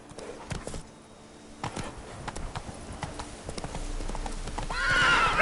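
Roach the horse in The Witcher 3: Blood and Wine gallops with steady, close clip-clop hoofbeats, building to a loud whinny near the end.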